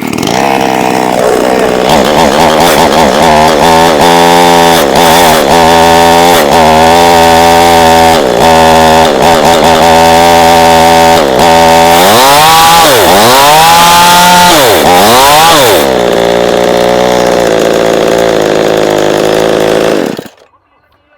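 Small chainsaw started with the choke pulled, running loud and steady for most of the clip, with a couple of revving surges before it cuts off abruptly at the end.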